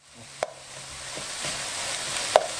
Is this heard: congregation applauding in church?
no